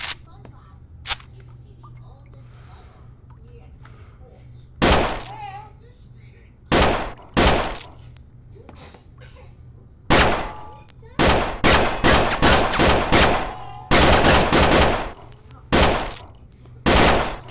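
Bren Mark II machine gun fired in the VR game Gun Club VR, loud bursts and single shots in irregular clusters with quiet gaps, the later bursts longer and denser, with faint handling clicks between.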